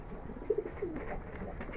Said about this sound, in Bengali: ভাই এটা বড় হাতার কবুতর মাশাআল্লাহ, অনেক ভালো